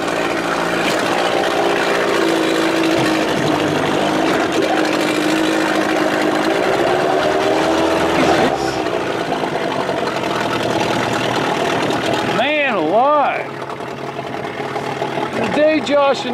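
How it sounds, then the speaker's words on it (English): An old outboard motor on a boat runs unevenly with a loud, continuous droning hum, sputtering and changing pitch, and the engine noise stays constant under wind and a voice speaking. "what's wrong with this damn motor?"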